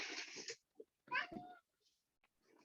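A cat meows close by in faint, separate calls with quiet gaps between them, and no one speaks.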